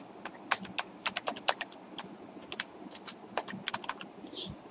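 Python code is typed on a computer keyboard in quick irregular bursts of close, crisp key clicks with brief pauses, alone over a faint background hiss.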